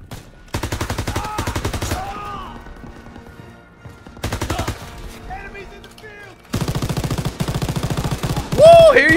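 Machine gun fire in the World War II shooter Call of Duty: WWII, loud rapid bursts in three separate volleys with short gaps between them, and a voice speaking near the end.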